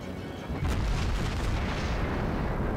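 Naval gunfire from the cruiser Pensacola in World of Warships: a loud, booming salvo lands about half a second in and rolls into a sustained, heavy rumble that holds to the end, with no talk.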